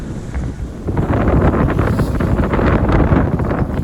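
Strong, steady wind buffets a sailboat in roughly 18 to 22 knots, a dense continuous roar with gusty surges and water rushing beneath, loud and close with no voices.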